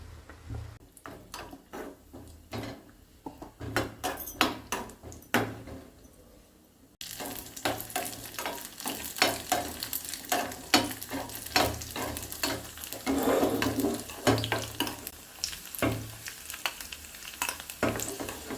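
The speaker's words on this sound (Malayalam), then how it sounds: "ഇനി നമുക്കിതിലേക്ക് നട്ട്സൊക്കെ വറുത്തിടാം" Cashews and raisins frying in a pan of oil for semolina porridge: a quiet start with sparse stirring clicks, then from about seven seconds a steady, close sizzle with repeated utensil scrapes and taps.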